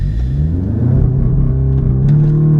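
Hot hatch, a Golf R or Audi S3, launching hard in a 0-60 run: loud, close engine roar rising under acceleration with a deep steady drone and a brief shift change near the end.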